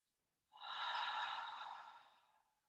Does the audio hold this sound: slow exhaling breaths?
yes